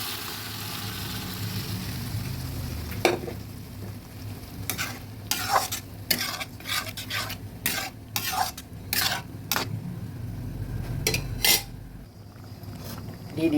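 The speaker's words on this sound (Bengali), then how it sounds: "ভালোভাবে নেড়ে দিচ্ছি" A spoon scrapes and knocks against a cooking pan as boiled mixed dal is stirred, with repeated sharp clinks over a soft bubbling sizzle from tempered spices and green chillies, close and fairly loud, with no talk.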